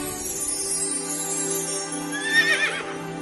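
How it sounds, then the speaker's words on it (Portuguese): A horse neighs as a sound effect in a Portuguese audio Bible, a whinny rising near the end over a steady musical bed, with no voices present. "vi um anjo do Senhor montado num cavalo vermelho"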